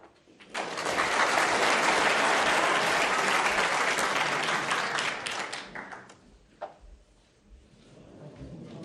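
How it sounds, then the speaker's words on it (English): A snooker crowd at the World Snooker Championship quarter-final between John Higgins and Kyren Wilson breaks into a burst of applause that swells quickly, holds for several seconds, then dies away into scattered claps and a quiet arena. "Seemed to be a smattering of applause there for no reason"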